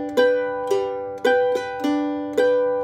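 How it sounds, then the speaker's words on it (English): Mandolin strummed in guitar-style chords, with an upstroke added after the second beat of each figure; crisp, evenly spaced chord strikes ring out close and alone, with no talking. "adding in an upstroke after the second beat and the figure"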